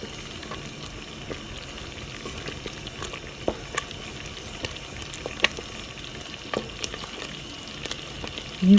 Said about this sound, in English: So the longer you boil this, the firmer your end product will be